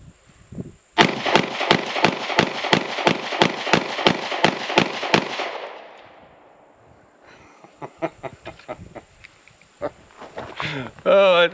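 Rapid fire from a SAR USA B6C 9mm pistol: about thirteen sharp, evenly spaced shots in quick succession, loud and close, followed by quieter handling clicks and someone talking.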